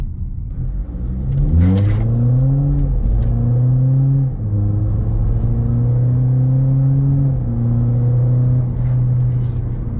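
A BMW F30 diesel fitted with a Euro Arts aftermarket exhaust revs loudly and close by, its deep engine note climbing in several pulls and then holding a steady drone, with no talking.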